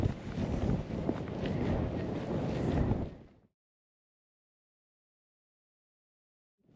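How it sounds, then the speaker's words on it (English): Wind gusting across an exposed moorland hilltop on the Bleaklow Edge walk, a loud broadband roar buffeting the microphone for about three seconds, then cutting off abruptly into silence. "Wind's beginning to pick up now, not protected anymore. It's getting gusting up to 11 miles per hour."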